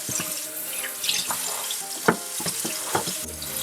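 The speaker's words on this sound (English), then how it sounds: "So I start with just scrubbing out any containers that I'm using with a sponge." Containers for brewing honey mead are scrubbed with a sponge at a sink under running tap water, giving close wet rubbing strokes, splashes and a few sharp knocks against the basin.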